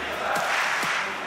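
At a CS:GO LAN semifinal in Jönköping, a large arena crowd roars in a steady, dense wash of cheering that fills the space, with an announcer's voice over it.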